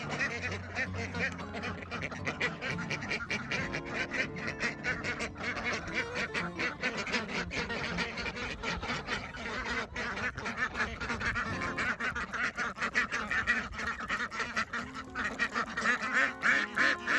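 Farm ducks quack loudly and almost constantly during a late December harvest, a dense, busy chorus of near honks and squawks with rustling underneath.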